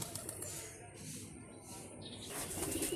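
Racing pigeons in a breeding loft make soft, faint cooing and occasional wing flutters against a quiet indoor background.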